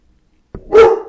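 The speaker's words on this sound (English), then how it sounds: "My dog's barking." A dog gives a single sharp, loud bark close to the microphone after a moment of silence, a short thump followed by the bright bark that fades quickly.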